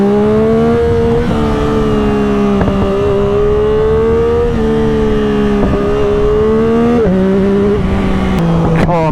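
A Yamaha MT09 naked bike fitted with Woodcraft clip-ons is ridden at steady speed, its engine holding a loud, continuous drone with slight pitch shifts and wind rush throughout.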